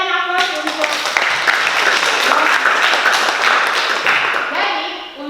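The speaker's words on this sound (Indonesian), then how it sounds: "Oke, kita berikan aplaus untuk." A classroom at a vocational high school breaks into applause for a student, producing dense, steady clapping from a group of hands that starts abruptly and fades slightly at the end.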